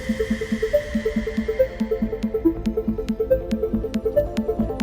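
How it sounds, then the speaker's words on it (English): A rapid, evenly repeating psytrance synth arpeggio of bright plucked notes fades in over a steady background pulse, its pattern cycling up and down in tight rhythm with no voices. "We have another ARP that's fading in that sounds like this with the other stuff under it."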